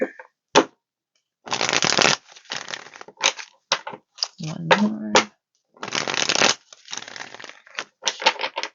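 Repeated riffling bursts of tarot cards being shuffled, several quick shuffles in a row with brief pauses, and a short spoken phrase near the start.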